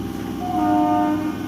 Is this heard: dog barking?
no